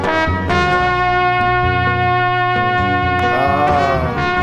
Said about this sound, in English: What you're hearing is my loop station and my guitar synthesizer